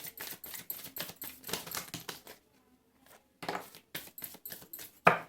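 Tarot cards being shuffled by hand, a run of quick crisp riffling flutters in close succession, a short pause, then more riffles ending in a sharp tap.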